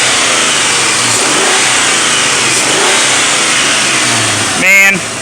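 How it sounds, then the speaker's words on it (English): A Mitsubishi Montero engine revs loud and close, a sustained throttle roar with rising pitch that holds for several seconds before easing off near the end. "I'll give it some gas right here."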